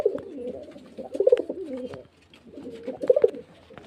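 Pigeons cooing nearby at a pigeon sale in Beldanga, in two soft, throaty bursts, with a short quiet pause between them.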